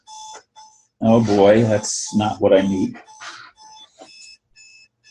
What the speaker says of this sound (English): For some reason, the alarm got set on my alarm clock, and it's noon, and it was just beeping.